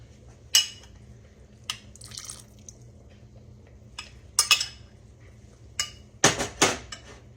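Muscadine grapes being mashed by hand to squeeze out their juice, giving a few sharp knocks and squishy clatters scattered over a quiet room hum, with a denser cluster of impacts near the end.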